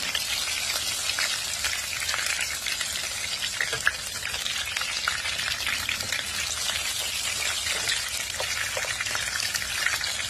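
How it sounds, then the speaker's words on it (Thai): Shrimp coated in crisp batter deep frying in hot oil, a steady dense sizzle and crackle holding at an even level throughout, with no talking. "เช้านี้ ทำกุ้งทอด กุ้งทอดกรอบแบบผงจุงเล็กนะคะ"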